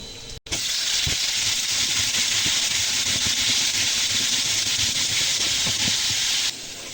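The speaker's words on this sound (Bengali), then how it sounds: "এখন এই আলুগুলো এর সঙ্গে ভেজে নেব" Potatoes frying in a pan with onion, green chili and garlic, giving a loud, continuous hissing sizzle up close, broken by a brief drop near the start and scattered soft stirring knocks.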